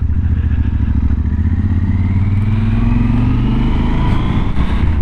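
A motorcycle passes close by, its loud engine note climbing and sweeping upward in pitch as it accelerates past with a rough, throaty roar.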